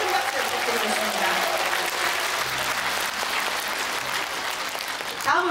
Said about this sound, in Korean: 광주불교 불자회 대표에 참석해주신 모든 불자님들께 다시 한번 큰 박수 부탁드리겠습니다